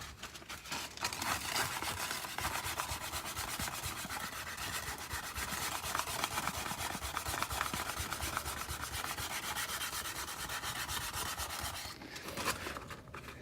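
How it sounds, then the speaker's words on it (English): Steady, continuous rasping of hand sanding on wooden scraper hand grips, a rough back-and-forth scrub that runs without pause and stays close and fairly loud. "I'll do a little bit of hand sanding here."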